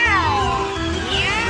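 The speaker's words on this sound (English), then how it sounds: "Meow, meow," Cartoon cat meowing loudly and close up in a children's animated song, a couple of drawn-out rising and falling meows with no talk over them.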